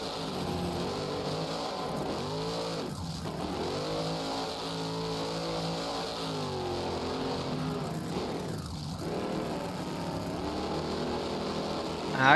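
Monster trucks racing side by side on a set track at a Beam Jam stop in Orlando, Florida, engines roaring steadily with rising and falling revs throughout, loud and close.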